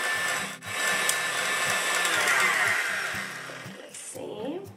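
An electric mixer whips meringue for a Venezuelan honey cake, a steady, close motor whine running for several seconds before cutting out, with a voice briefly heard at the end.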